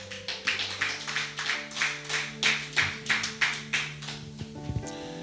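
A church congregation claps in a steady rhythm, about a dozen sharp, even claps, with sustained musical tones underneath, moderately close.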